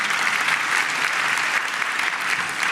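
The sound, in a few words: applause for the tax commissioner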